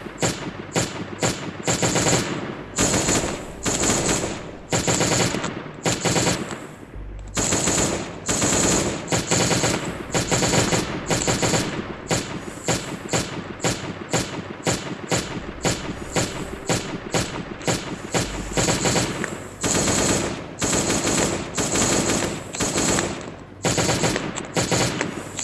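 Sustained automatic weapon fire from the survival game Last Day on Earth, loud and close, rapid bursts with brief pauses running throughout and no talking.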